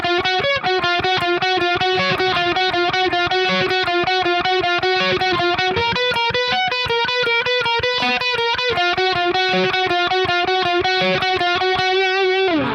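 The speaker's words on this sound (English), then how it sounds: "So this lead guitar here will sound like this." Distorted electric lead guitar plays a steady line of eighth notes high on the neck, from the lead part of a song; loud and continuous, alone and without voices.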